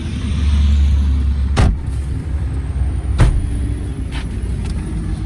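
A 2013 GMC Acadia Denali SUV on a test drive, heard from inside as a steady low road and engine rumble with a couple of sharp bumps over the road.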